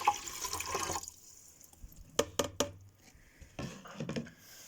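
Water being poured into a container in a kitchen, a soft steady trickle and splash with a few brief clinks and knocks partway through, fairly close and quiet.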